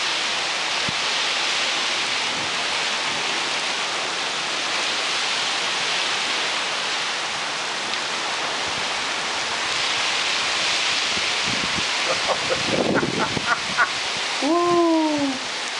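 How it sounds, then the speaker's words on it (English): Heavy rain from Storm Cindy pours in a steady, loud hiss throughout, with a few faint whoops and vocal calls near the end. "Beautiful, beautiful rain."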